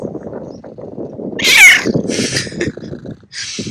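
A cat on a Greek island meows loudly in a single drawn-out, rising-and-falling cry near the middle, followed by a couple of shorter, higher calls over a low outdoor murmur.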